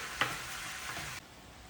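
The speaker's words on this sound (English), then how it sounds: "we're gonna add in our certified Hereford ground beef and let this start cooking and browning" Certified Hereford ground beef browning with onions in a pan, a brief steady sizzle with one sharp crackle near the start, which cuts off abruptly partway through.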